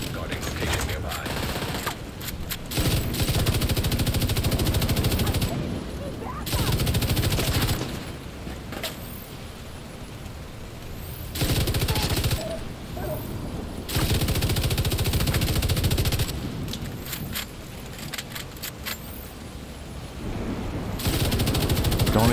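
Light machine gun fire in The Division 2 video game, loud sustained automatic bursts repeating several times with brief gaps between them, while a voice talks in the background.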